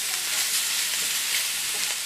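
Sausage, sweet potato and apple sizzling in a skillet while being stirred, a steady close hiss of frying with no talking.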